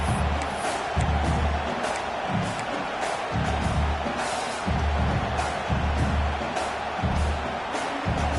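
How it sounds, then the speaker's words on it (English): A football stadium crowd in Georgia roars after an early sack, a loud sustained mass cheer with rhythmic surging swells. "This crowd, full throat, splitting the eardrums and letting them know it's going to be a long day"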